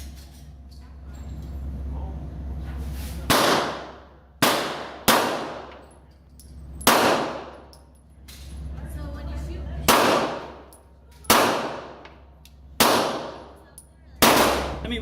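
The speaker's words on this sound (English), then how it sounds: "So shoot that out of your Glock 17 and see if you notice the difference on that one." Glock 17 pistol firing +P rounds at a gun range: eight sharp, loud reports at irregular intervals, each ringing out briefly, over a low steady background hum.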